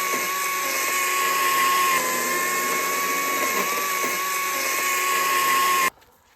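A chainsaw cuts wood with a steady, high-pitched motor whine running continuously at constant loudness, then cuts off abruptly near the end.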